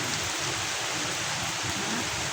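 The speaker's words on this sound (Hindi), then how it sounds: "नींद में इस बारिश ने हमें जगा दिया है" Steady, dense rain pours down continuously, a broad hiss of drops striking surfaces close by, with no voices.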